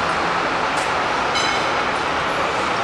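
A tram rolls past at a station stop, a loud, steady rumble of wheels and motor with faint squeals along the rail, close by and without speech.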